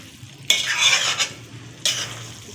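Kata kat, a Pakistani griddle dish, is scraped and dished out of a sizzling pan in two loud, close bursts of metal scraping over a frying hiss, with a short lull between them. No one talks.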